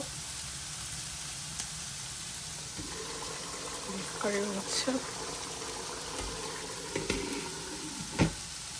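Broccoli frying with garlic, onion and salt, with green chili about to be added, sizzles softly and steadily in a pan while a voice speaks over it and a few clinks and stirring knocks punctuate the sound.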